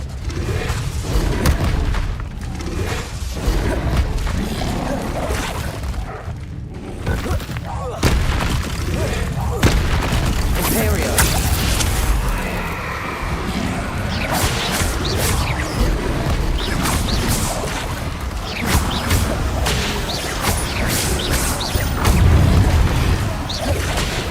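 Confringo and Expelliarmus spell blasts in the Hogwarts Legacy game land as dense, loud booms and crashes that follow each other without a break, with a voice repeatedly calling out spell names over the barrage.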